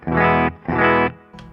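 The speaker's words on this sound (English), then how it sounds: "So just to remind you what the clean channel sounds like on the bridge pickup." Charvel Guthrie Govan signature electric guitar on the bridge pickup through a clean amp channel, two sustained chords ringing about half a second each, then a short bright pluck at the end, loud and close with no voices.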